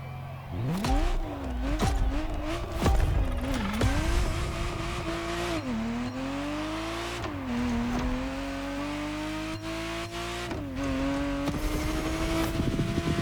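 Ferrari Testarossa engine in The Crew Motorfest racing game, revving hard and continuously, its pitch climbing and dropping through repeated gear shifts under steady acceleration.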